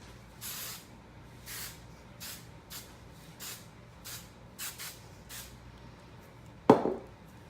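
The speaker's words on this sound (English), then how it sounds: "I will spray my hair some more" A series of short, soft hairspray hisses, about nine quick puffs spaced irregularly, misting onto wavy hair, ending in a brief louder rustle.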